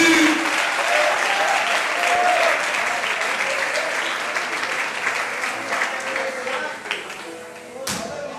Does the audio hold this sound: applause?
yes